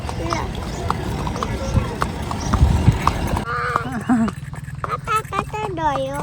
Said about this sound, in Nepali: आफै हिँड्छ नि त घोडा त